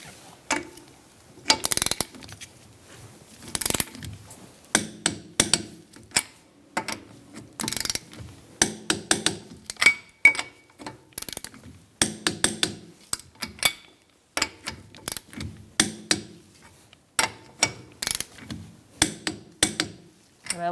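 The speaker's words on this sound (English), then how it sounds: "we're going to torque our wheel to 80 foot-pounds" Torque wrench tightening the lug nuts on a 2002-2006 Honda CR-V wheel to 80 foot-pounds in a star pattern, with repeated sharp mechanical clicks and ratcheting bursts in an irregular rhythm, close and fairly loud with no talking.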